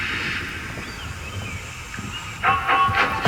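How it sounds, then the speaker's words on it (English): A steady rushing hiss of a steam locomotive running along the track, with rhythmic chuffing bursts growing louder near the end. "He steamed along the line as smoothly and as quickly as he could."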